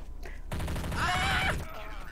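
Bursts of gunfire from the video game Counter-Strike: Source crack out over about a second, loud and close, with rapid repeated shots; a voice talks faintly before and after.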